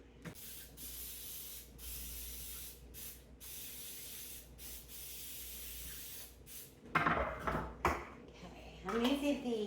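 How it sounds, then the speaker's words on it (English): Several short hissing bursts of cooking spray onto a pan, close and fairly quiet, followed by clattering and a voice speaking. "I'm using the baker's jar to spray my pan with"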